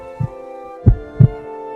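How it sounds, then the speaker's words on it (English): Three soft, low thuds of a heartbeat from an animated show, spaced irregularly across a quiet sustained hum, each beat short and muffled, with no talking. "is this when she hears his heartbeat or something?"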